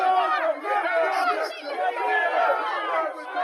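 Angry protesters shout and jeer at Keir Starmer outside Parliament, a dense, continuous crowd roar of overlapping raised voices held at steady loudness throughout.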